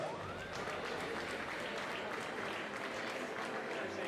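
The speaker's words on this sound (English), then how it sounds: "some applause please for the first" Audience applause at a finswimming World Cup medal ceremony at a swimming pool venue, sustained dense clapping from a crowd, steady and loud throughout.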